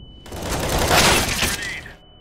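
Grenades go off in a CS:GO match, a flashbang followed by an incendiary, giving a dense roaring burst that swells and fades over about two seconds with a crackling, shattering texture.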